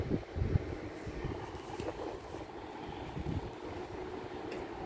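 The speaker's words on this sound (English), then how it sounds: "the 1306 Northern service to Nottingham" Northern passenger train at Sheffield station on the Midland Main Line, a low steady rumble of rolling stock and engine with wind noise across the microphone, fairly constant throughout.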